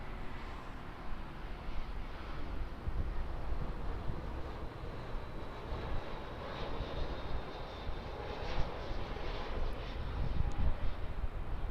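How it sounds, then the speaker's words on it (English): An Airbus A320 arriving from Wellington at Auckland, a faint, distant, steady engine rumble with wind noise, holding at low level throughout. "Coming in from Wellington is this Airbus A320."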